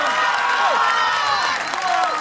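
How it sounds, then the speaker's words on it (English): A crowd at a Highland Games in the Peak District claps and cheers for strongman Simon Knowles, with dense sustained applause and whistles or shouts rising over it, loud and continuous. "you can hear round of applause there for big Simon Knowles"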